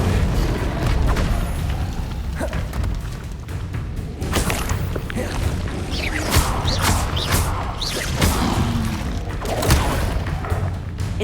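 Incendio fire spells blast repeatedly in Hogwarts Legacy, producing dense, overlapping booms and crackling bursts that continue steadily throughout.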